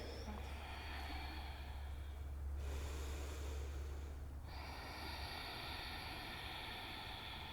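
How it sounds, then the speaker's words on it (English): Slow, audible breaths in and out through the nose during a yoga class sound as long, hissing airy swells, faint and steady, with a brief lull between them against a low background rumble. "Begin with breathing in your nose and out your nose, louder than the voice between your ears."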